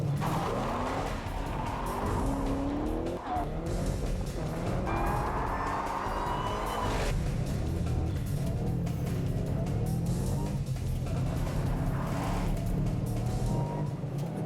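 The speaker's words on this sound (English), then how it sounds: "Fourth gear, we're at 100 miles an hour." A Shelby car accelerates hard through the gears on a high-speed run, producing a loud, sustained engine roar with rising pitch sweeps as it shifts, continuous throughout.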